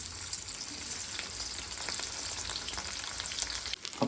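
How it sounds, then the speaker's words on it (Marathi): Onions frying in hot oil for poha, a steady close sizzle with small crackles and a brief scrape or stir near the end. "तेल गरम झाले. कांदा टाकू आता."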